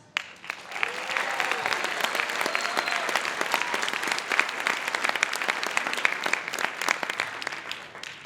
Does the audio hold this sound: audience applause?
yes